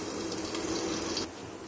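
Water poured into a hot pan around a kulcha to steam it, a steady close gushing splash that stops abruptly, with no voices.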